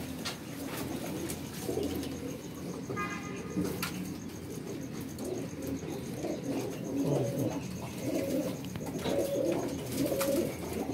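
Pigeons being readied for shipment to Pindi coo continuously in a dense, overlapping chorus, with brief chirps and faint traffic in the background.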